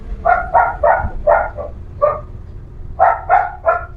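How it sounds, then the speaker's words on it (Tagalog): A dog barks loudly and close by, a run of quick bursts, a short pause, then another cluster of barks. "Ang ingay po ng aso, pagpasensyahan nyo na."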